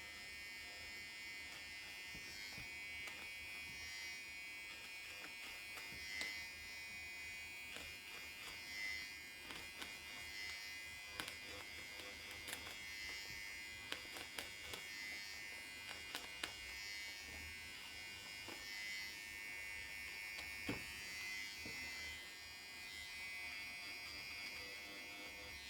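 A sewing machine stitches through iron-on vinyl, its motor giving a continuous close buzzing whir with small clicks throughout, heard alone.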